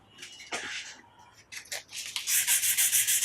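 Fine 400-grit sandpaper rubs over guitar frets to polish out file scratches, first as scattered short strokes, then as a steady run of rapid, even back-and-forth rasps close to the ear.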